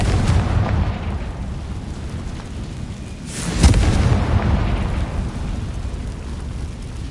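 A fiery Confringo spell blast in Hogwarts Legacy erupts as one loud, booming explosion midway through, rising out of a steady rumbling game soundscape and trailing off into a sustained roar.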